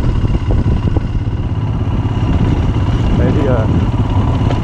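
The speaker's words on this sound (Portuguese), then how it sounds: "O cara vem assim de boa de moto" A Royal Enfield Himalayan motorcycle on a rocky road, its engine running with a steady, close rumble and some clatter throughout, while someone speaks briefly over it.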